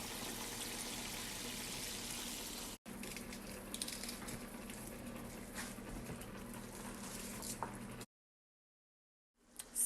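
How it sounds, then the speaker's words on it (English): Water poured into a pot of cabbage with bacon, peppers and onions in a home kitchen, a steady close splashing pour that runs for several seconds, breaks once, then stops with silence. "Add your water"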